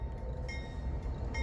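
A Norfolk Southern freight train passes close by, a loud, dense, continuous rumble of rail noise with no pauses across the short stretch.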